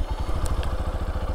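A 2023 Honda XR150L motorcycle engine, warm and started without choke, idling with a steady low rapid thump and faint clatter, close by and alone.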